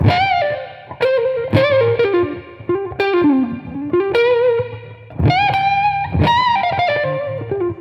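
Electric guitar notes and bends from Peter Green's blues recording "I've Got A Mind To Give Up Living," played with heavy reverb and effects, each phrase ringing out and decaying into a wash of echo, no voices.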